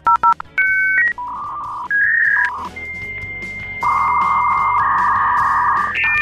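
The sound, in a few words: dial-up modem connecting to the internet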